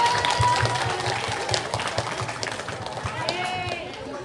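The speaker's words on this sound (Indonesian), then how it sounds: "tepuk tangan dulu yang meriah untuk anak pondok" An audience claps for pondok children after a theatre show about the story of Prophet Musa and Pharaoh, with dense applause and crowd noise running under a speaking voice throughout.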